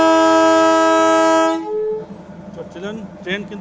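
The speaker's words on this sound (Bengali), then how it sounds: "NDM 608 ডিজেল লোকোমোটিভ নিয়ে এই ট্রেন যাবে হচ্ছে এই গয়াবাড়ি থেকে মহানন্দা ওয়াইল্ড লাইফ স্যাংচুয়ারির মধ্য দিয়ে শিলিগুড়ি স্টেশন পর্যন্ত" The Darjeeling toy train's NDM 608 diesel locomotive sounds a loud, sustained horn blast near the start of its jungle run from Gayabari to Siliguri. The horn cuts off and gives way to low rumble and voices talking.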